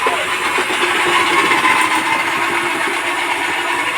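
An electric food processor slicing a large batch of onions runs with a steady, continuous motor whir, loud and close, holding an even level throughout with no talking.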